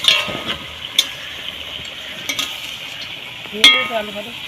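Large chicken pieces being fried in oil with salt for a spicy curry, a continuous sizzle broken by several sharp spoon scrapes and knocks against the pot, close up.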